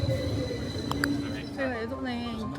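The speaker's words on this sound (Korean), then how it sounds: "지금 이렇게 지하철이 가잖아요." A London Underground train rumbles along the line, a steady low rolling drone with a rising whine from the traction motors. A person talks over it throughout.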